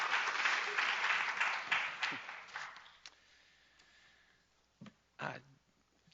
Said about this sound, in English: So one more time, big round of applause for Professor Cecil Lewis.